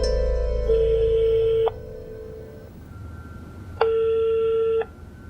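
A telephone rings through a handset in two long electronic ringback tones separated by a pause, clear and steady over a quiet background.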